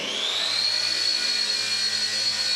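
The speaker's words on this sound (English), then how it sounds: "All right, here we go, start the motor." Motor of a small RC helicopter spins up into a loud, steady, high-pitched whine that holds close and constant throughout.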